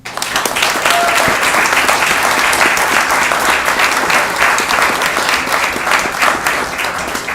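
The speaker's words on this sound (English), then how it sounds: "A huge round of applause." Sustained applause from the audience at a city council meeting, a dense and loud wash of clapping that holds steady for several seconds before tapering slightly.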